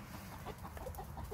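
Backyard chickens clucking in their enclosure, several birds calling in short overlapping clucks over steady low background noise, fairly close and continuous without any talking.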